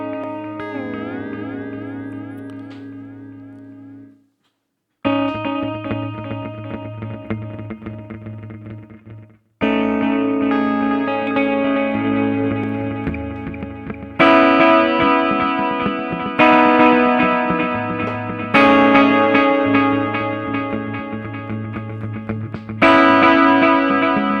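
Electric guitar played through a Strymon DIG delay pedal set to a dotted-eighth 12-bit delay: loud picked notes and chords bloom into rhythmic repeating echoes across several phrases, alone without talk.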